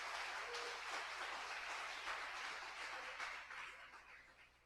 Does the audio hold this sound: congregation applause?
yes